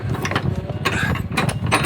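A sailboat's anchor windlass paying out anchor chain while anchored in Georgetown, Bahamas, giving a steady loud mechanical whir with ratcheting clicks and rattling links, close by and continuous.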